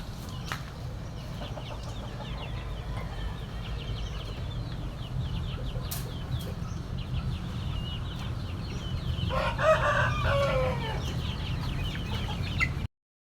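Chickens cluck in a farmyard, steady murmuring calls over low background noise, with a louder burst of fowl calling near the end.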